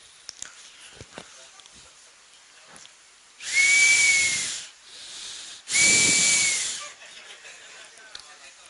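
A toy whistle gives two shrill, steady blasts about two seconds apart, loud and close, with faint clicks and room noise in between.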